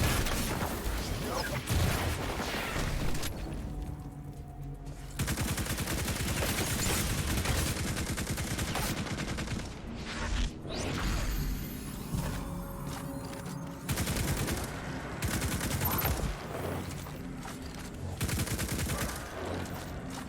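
Fusion rifles firing in Destiny during a Legend Lost Sector, heard as loud bursts of charged blasts and crackling gunfire in long stretches, broken by short quieter gaps with a narrating voice over parts.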